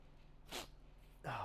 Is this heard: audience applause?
no